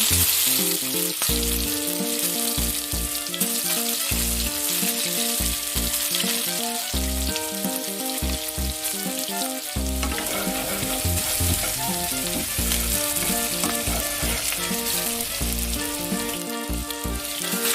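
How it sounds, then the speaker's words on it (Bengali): Whole cumin, ginger and chopped garlic sizzle loudly in hot oil in a wok, a dense continuous frying crackle heard close up with occasional stirring, a steady tonal hum running underneath. "কড়াই তেতে উঠলে তাতে পরিমাণ মতো তেল গোটা জিরে আদা এবং রসুন কুচি একে একে দিয়ে দিলাম"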